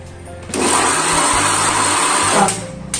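A mixer grinder whirs steadily while grinding ingredients for sambar in a home kitchen, a loud continuous motor drone that starts abruptly after a short lead-in and cuts off near the end.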